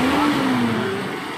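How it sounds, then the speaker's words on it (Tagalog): A car engine revs up after its ignition distributor timing has been adjusted, a single close rise in pitch that eases back down over about a second, with no one speaking. "Tignan mo yung response ng makina pag nag-rev ako."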